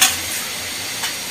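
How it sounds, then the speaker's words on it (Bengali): Leafy greens fry in a pan while being stirred, giving a brief, close, steady sizzling hiss with a soft scrape at the start. "এখন ভালো করে নাড়িয়ে নিতেছে ভাজা ভাজা টাইপের হবে"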